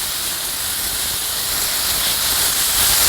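Potatoes stir-frying in a little cooking oil over high heat give off a loud, continuous close sizzle and hiss, steady and unbroken, with no voices.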